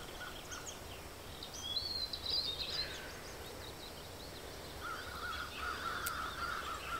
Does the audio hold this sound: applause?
no